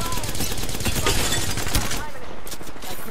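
Dense gunfire from an Apex Legends match, a sustained fusillade of rapid shots filling the whole stretch, loud and close, with a player's voice partly mixed in.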